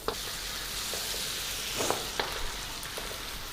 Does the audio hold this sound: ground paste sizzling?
yes